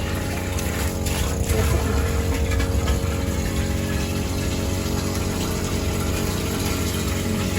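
A Demon petrol-powered water pump drones steadily and loudly, filling a barrel, its engine hum mixed with the rush of pumped water throughout.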